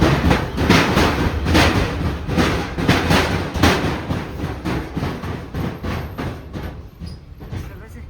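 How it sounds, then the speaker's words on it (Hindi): Train rolling along a narrow-gauge railway track, with a steady rhythmic clickety-clack of wheels over rail joints heard from inside the carriage, loud at first and easing slightly toward the end. "ट्रेन स्टार्ट हो रही है पटरी पे, खट खट खट खट।"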